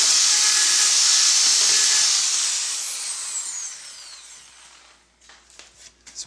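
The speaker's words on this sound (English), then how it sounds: "take your drill bit with your Forstner bit and just kind of don't go very deep, but just kind of tap along the bottom" A drill with a Forstner bit boring a mortise in timber whines loudly and steadily, then winds down while the bit keeps scraping the wood, leaving a few light taps and knocks at the end.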